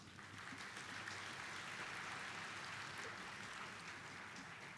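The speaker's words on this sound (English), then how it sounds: "Please give a big round of applause for NVIDIA." Steady, dense audience applause fills a keynote hall at a developer conference, continuous clapping heard at a distance at low level.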